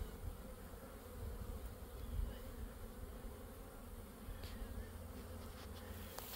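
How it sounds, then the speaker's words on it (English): A honey bee swarm in an apiary gives off a steady, dense buzzing hum that holds throughout at moderate level, with no voices over it. "It's my first swarm of the year, at least that I've seen."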